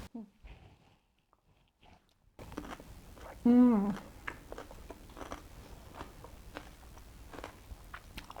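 Crunchy cabbage salad being bitten and chewed close up, repeated crisp crunches after a quiet start, with a brief voice sound partway through.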